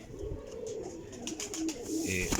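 Chinese flying pigeons coo in low, soft, repeated murmurs close by against steady background noise.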